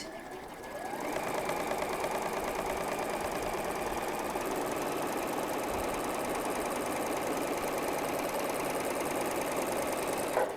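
A sewing machine stitches quilt blocks in a continuous, even mechanical whir with a fast rhythmic needle chatter, starting up after a second and running steadily and close without pause until stopping at the end.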